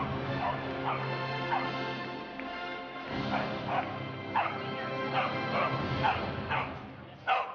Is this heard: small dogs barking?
yes